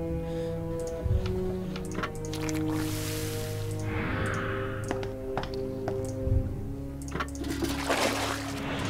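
Water filling a bucket in the video game Nightmares from the Deep III, a short splashing pour over sustained musical tones, with a few thunks and trickles around it.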